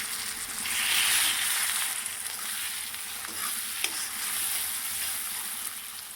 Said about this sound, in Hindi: फिर मिर्च हो गई है फ्राई। अब हम इसमें डाल देते हैं टमाटर।